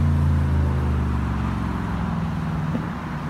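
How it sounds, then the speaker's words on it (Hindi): A car rumbles past near a road with low engine drone and tyre noise, loudest at first and easing slightly as it continues. "देखो एक कार दिखा"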